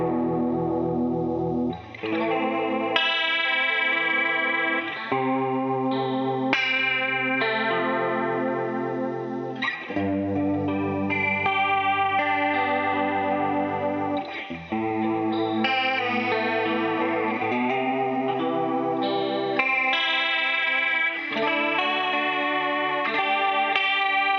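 Electric guitar through a Sonicake Smartbox retro funk preset, playing sustained chords and riffs with a shimmering chorus effect and light distortion, steady and loud, with no voices.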